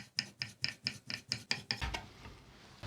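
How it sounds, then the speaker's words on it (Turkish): A knife cuts beef tenderloin into thin julienne strips on a board, about eight quick, evenly spaced slicing strokes close up, then a brief softer handling noise. "açtığım etlerimi bu şekilde jülyen bir şekilde doğruyorum"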